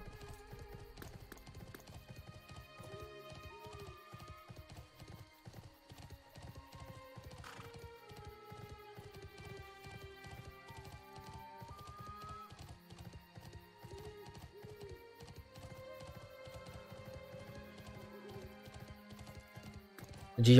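Steady, rhythmic hoofbeats of a horse galloping in the online role-playing game Bless Online, continuous throughout, with game music and effects layered quietly beneath.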